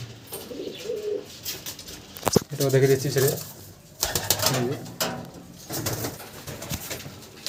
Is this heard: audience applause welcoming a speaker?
no